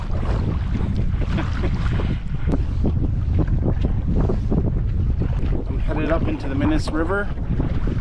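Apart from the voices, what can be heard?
firm headwind blowing while canoeing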